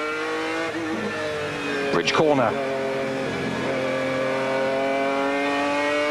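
GT race cars, among them a British Morgan V8, sweep past at Silverstone during a 1995 endurance race, engines roaring loudly with a sharp passing howl and pitch sweep, under a commentator's voice.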